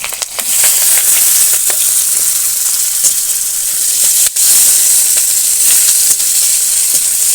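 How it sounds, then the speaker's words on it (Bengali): Vegetables with torn green chillies and chopped tomato fry in hot oil, giving a loud, continuous sizzle and hiss with faint stirring clicks scattered through it. "সব কিছু একদম ভালো করে ভেজে নিচ্ছি বেশ কয়েকটা ছিঁড়ে রাখা কাঁচা লঙ্কা আর টমেটো কুচি"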